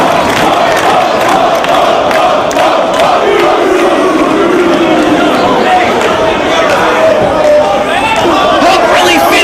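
A live wrestling crowd in Chicago roars and cheers steadily throughout, with shouting and chatter layered in a loud, continuous wall of arena noise, while a commentator talks over it.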